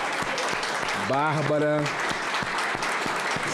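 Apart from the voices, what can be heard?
standing ovation applause in a legislative hall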